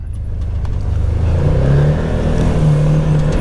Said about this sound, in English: the engine it's the 1000cc V-twin